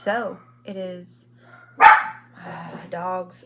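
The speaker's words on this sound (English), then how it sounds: "Dogs are going insane today." Dogs barking in a vlog recorded during a snowstorm in the Southern US, a couple of sharp barks standing out loudly between stretches of people talking nearby.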